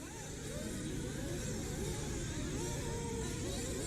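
Nitro RC buggies race down the front straightaway at a JConcepts Pro Nitro Buggy A-main, several small engines screaming together in a steady, continuous whine that stays loud throughout with no breaks.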